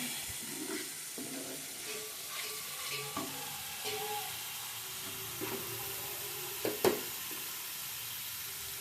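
Masala paste fries in a pan while a spoon scrapes and stirs it, giving a continuous sizzle with intermittent scraping knocks and one louder clatter near the end. The sound is close and there is no talking.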